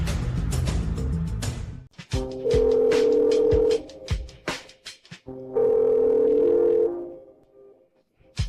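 Two long steady electronic telephone ring tones, each lasting about a second and a half, sound clearly with a pause between them as a call goes unanswered; brief clicks and rustling fill the gaps.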